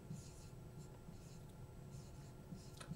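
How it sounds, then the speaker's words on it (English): Pen or marker writing an equation by hand during a lecture, soft scratchy strokes repeating in short bursts, faint and close, with a low murmur of room noise beneath. "Write that down here."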